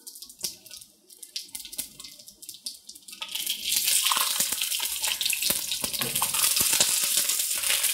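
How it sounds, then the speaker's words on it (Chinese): Halved long green chili peppers sizzle in hot oil in a pan on low heat, blistering as they're turned. After a quieter stretch of scraping and clatter, a loud, close, continuous frying hiss takes over and holds to the end. "用慢火煎至两面虎皮形状，需要不时的翻面"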